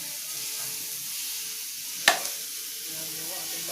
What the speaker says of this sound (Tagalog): Ito yung ating manok niluluto.